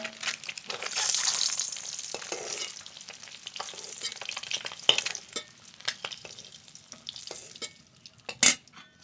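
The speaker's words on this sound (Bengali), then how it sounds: "ডিম ভালো করে ভেজে নিয়েছি," Eggs frying in oil in a pan while being stirred, giving a continuous crackling sizzle with frequent clinks and scrapes of a utensil, close and prominent with no speech.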